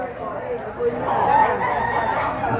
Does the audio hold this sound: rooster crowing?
yes